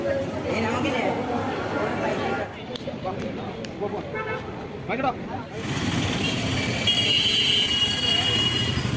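A busy outdoor area outside a railway station, with a steady crowd murmur and traffic noise, a passing train and vehicle horns. Nearby voices talk over the din and a brief horn-like toot sounds midway.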